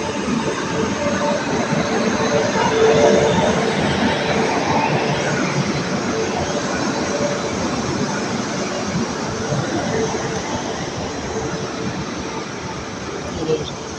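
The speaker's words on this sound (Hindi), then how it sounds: "देखिए इधर रेलवे का और इधर से ट्रेन भी आ गई।" A train arrives along a railway track beside a working crane, its steady rumble and rolling wagon noise filling the scene, loud and close and swelling slightly early on, with faint talk beneath.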